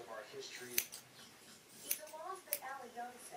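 Scissors snip through hair during a home haircut, three crisp, close cuts spaced about a second apart, with a person talking quietly between and around the snips.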